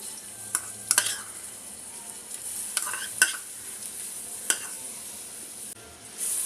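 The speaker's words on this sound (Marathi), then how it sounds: "याला आपण चांगलं भाजून घ्यायचं आहे अद्रक लसूणला" Grated ginger and garlic frying in oil on a hot pan over low gas, a soft steady sizzle with a few sharp clinks of a spoon against the pan.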